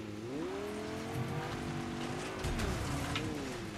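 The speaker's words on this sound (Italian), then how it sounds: "Macchina molto più veloce, molto più performante" Engine of a fast car in Fortnite, a steady buzzing drone whose pitch climbs and dips as it drives, continuous and close throughout with no talking.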